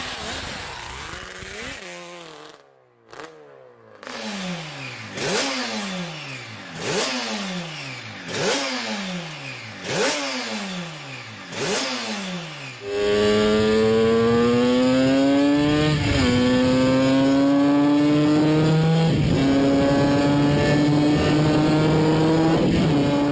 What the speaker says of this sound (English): who doesn't love the sound of a small displacement inline four screaming away at really high RPM?